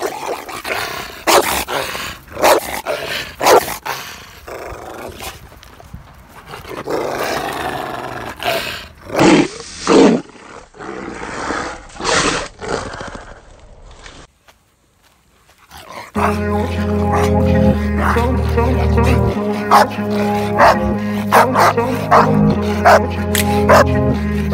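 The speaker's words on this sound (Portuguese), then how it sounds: "Fica aí então com o vídeo dos Rottweilers treinando, que tá muito, muito massa esses dogão." Rottweilers bark and growl during protection training, with repeated loud, close barks in bursts over the first half, then a brief pause before music takes over.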